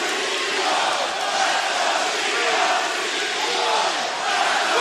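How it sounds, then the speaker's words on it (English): A loud, vocal wrestling crowd at AEW Dynamite in Norfolk roars and chants continuously, a dense wall of voices filling the arena without letting up. "Very vocal crowd here in Norfolk, split 50-50 between the CEO and the challenger."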